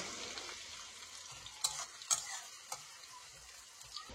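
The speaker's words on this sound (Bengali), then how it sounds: "দিয়ে পেঁয়াজ কুচিটাকে আমি ভালো করে ফ্রাই করব" Chopped onions fry in a pan over cumin seeds with a steady, faint sizzle, broken by a few soft clicks of stirring.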